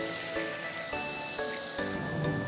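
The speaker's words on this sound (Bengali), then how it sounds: "এই যে বাঁধাকপিটা দিয়ে দেবো" Cabbage goes into a hot pan of spices over a low flame, setting off a dense, steady sizzle and crackle like rain, with a few clattering knocks from stirring.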